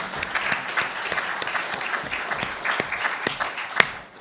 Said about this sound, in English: I think we ought to give Scott a round of applause